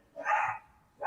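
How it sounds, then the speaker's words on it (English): One short dog bark, fairly faint and off in the background of a quiet legislative chamber, with the start of a second bark just at the end. "If you hear barking, it's not coming from me."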